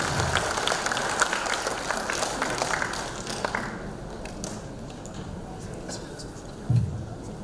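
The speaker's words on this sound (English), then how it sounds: "please give a round of applause to welcome Mr. Geoff" An audience at a 2018 market outlook symposium applauds to welcome a speaker. The clapping is steady and dense for the first half, then thins and fades, with a soft thump near the end.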